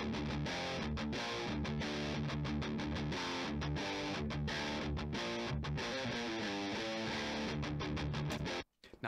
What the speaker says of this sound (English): So I'm using a dual rectifier,